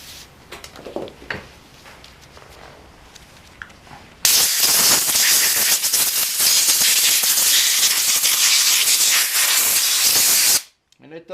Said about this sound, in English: let me get the little compressed air.